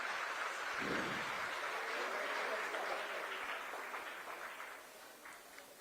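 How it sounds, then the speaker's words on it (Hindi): Steady crowd applause at a student award ceremony, dense and sustained, fading slightly toward the end with no voices standing out. "तालियों से इनका स्वागत करते रहिए।"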